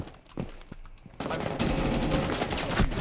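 Gunfire in the shooter game Rainbow Six Siege: a few scattered shots at first, then a sudden dense burst of sustained automatic fire that stays loud to the end, with no talk over it.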